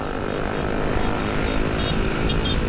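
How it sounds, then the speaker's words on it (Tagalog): A loud motorcycle exhaust pipe on a group ride, a dense, roaring engine drone that holds steady and close throughout with no clear pauses. "Napakaingay naman ng pipe na yan."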